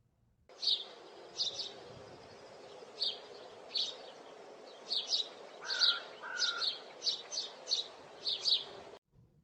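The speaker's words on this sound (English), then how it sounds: "the cheep of a very loud bird could be heard" A loud bird chirps in repeated sharp bursts, about a dozen bright cheeps over a steady low hum, with brief pauses between them.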